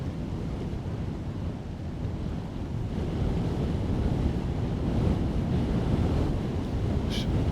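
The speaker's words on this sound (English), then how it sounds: "stuff blowing around rather easily. Obviously a windy spot just here." Strong wind gusting across an exposed seaside golf course during a final round of the Open Championship, a continuous loud roaring rush that swells midway and stays up.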